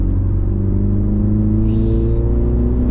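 Turbocharged engine of a 2016 MINI JCW with a six-speed manual gearbox, pulling hard under full torque with a steady, loud, close-up rumble and a brief hiss near the end.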